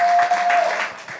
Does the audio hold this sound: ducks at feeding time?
no